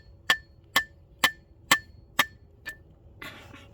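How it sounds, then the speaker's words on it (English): A hammer drives a rebar stake for a beaver trap, six sharp metallic strikes at an even pace, close and loud, fading slightly toward the end and followed by a brief rustle. "I need a real hammer."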